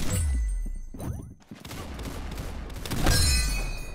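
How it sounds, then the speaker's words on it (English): Gunfire in the shooting video game Arsenal: bursts of rapid shots and sharp impacts, loud and close, with a brief lull midway before another heavy burst. "Very good shooting."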